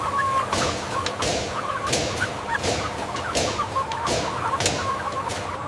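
Chickens in a flock being herded along, clucking and squawking steadily and close by, with repeated sharp bursts over a continuous busy background of fowl calls.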